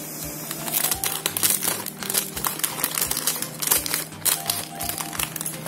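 A plastic packet of dried Cung Đình chicken phở noodles is cut open, giving a close, continuous crinkling and rustling of plastic with small sharp crackles throughout and no talking.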